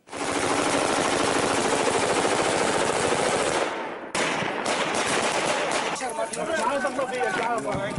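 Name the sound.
machine gun fire at parachuting pilots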